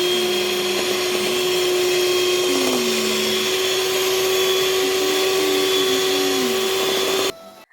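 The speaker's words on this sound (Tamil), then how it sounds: "எக் ஆட் பண்ணி நல்லா பீட் பண்ணிக்கணும்." Electric hand mixer beating sugar and eggs for an alcohol-free plum cake batter, a steady, loud motor whine running unbroken for about seven seconds before cutting off abruptly.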